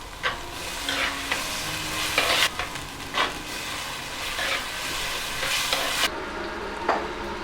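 Two medium sliced onions and curry leaves sauté in hot oil, giving a steady close sizzle with scraping stirs and occasional sharper crackles throughout, no voices.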